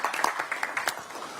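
Audience at a Democratic Party campaign committee event clapping for politician Park Ju-min, a thinner, fading patter of hands with a few distinct louder claps standing out, fairly soft overall.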